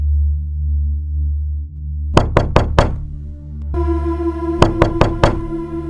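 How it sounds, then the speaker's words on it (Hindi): Knuckles rap on a wooden door at night in an animated cartoon scene, two quick bursts of four sharp knocks each, loud and close over a steady musical drone. "रामू, ओ रामू, दरवाजा खोलो भाई, देखो मैं क्या लाया हूं"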